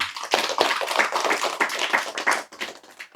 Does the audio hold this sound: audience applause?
yes